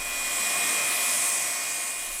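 A vacuum pump draws air out of pen-making material, giving a steady, even whirring hiss with a constant high whine throughout.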